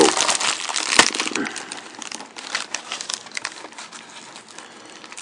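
A 1991 WCW trading card pack's old cellophane wrapper crinkles and crackles up close in irregular bursts, with a sharp snap near the start, before quieter rustling trails off.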